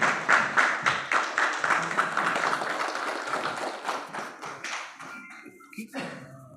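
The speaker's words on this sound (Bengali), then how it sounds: "আবারও জোরে হাততালি দেবেন" Audience at an awareness programme of a mobile phone dealers' welfare association applauding loudly, dense rhythmic clapping that swells and then thins out toward the end, with a few scattered claps and some background voices.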